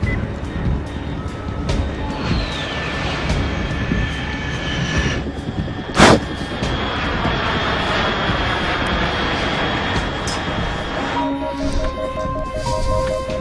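A loud, sustained aircraft engine drone from the video game Metal Gear Solid 3 fills the scene, steady and close, with a brief sharp burst partway through and tonal game sounds layered on top.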